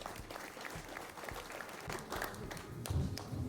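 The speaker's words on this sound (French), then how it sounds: "On peut les applaudir à nouveau." Soft, distant applause from a crowd at a mayor's New Year address, a continuous patter of many hands clapping at low volume.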